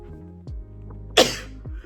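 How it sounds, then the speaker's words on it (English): A single sharp human sneeze bursts out indoors, a brief loud explosive breath standing out from a quiet room with some faint low tones around it. "I have to sneeze."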